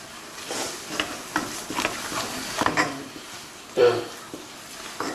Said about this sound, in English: This is like kneading dough. But instead of by hand, you're using a wooden spoon.